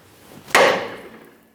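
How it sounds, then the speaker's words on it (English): One sharp metallic hammer strike rings against a tie rod end stud on the steering knuckle of a 2012-2015 Honda Civic, close and loud, with a short ringing decay. "To separate the outer tie rod end stud from the steering knuckle, a couple light taps with a hammer will do."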